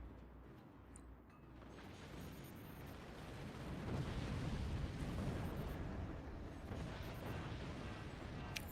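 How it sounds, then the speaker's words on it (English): Paired missiles launch and strike in the Forts real-time strategy game: a low, rumbling wash of explosions that swells after the first seconds and stays heavy and continuous, with faint mechanical clicks on top. "Double missile launch."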